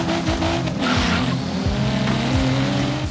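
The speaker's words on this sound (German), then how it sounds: "Was nicht Spaß macht, ist, dass der Wagen so beschissen anfährt." BMW M4 pulling away with wheelspin in Forza Horizon 3, traction control fighting it: a loud engine revving up through repeated rising gear sweeps while tires squeal steadily underneath.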